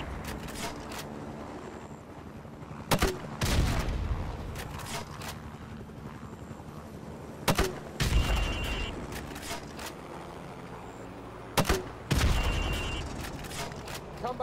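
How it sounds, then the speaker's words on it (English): Grenade launcher firing in Call of Duty: Modern Warfare Remastered, four sharp loud booms spaced a few seconds apart, each followed by a rumbling blast tail over background ambience and faint talk. "now pop a grenade into windows 5,"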